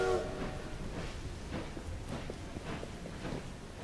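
A train in the video game Assassin's Creed rumbles along continuously, a dense low clattering roar with a faint rhythmic beat of wheels on track, and a brief tonal sound at the very start.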